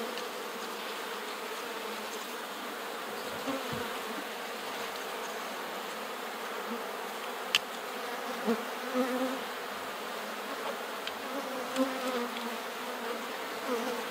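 Honey bees buzz in a dense, continuous drone while a beekeeper moves them into new hives, with a few faint knocks and thumps scattered over the steady swarm.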